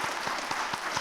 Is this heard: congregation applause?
yes